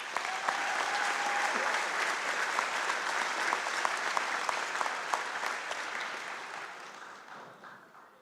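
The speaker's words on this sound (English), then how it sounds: "Please give them all a round of applause" A large crowd applauds at a college commencement ceremony, dense steady clapping that holds for several seconds and then gradually fades out.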